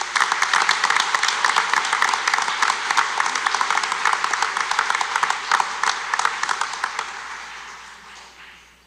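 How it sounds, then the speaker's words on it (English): An audience at a school board meeting claps steadily, a dense run of hand claps that holds for several seconds and then thins and fades toward the end, with no voices over it. "please join me in a round of applause for all those students."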